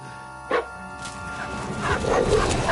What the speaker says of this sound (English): We let the dogs out.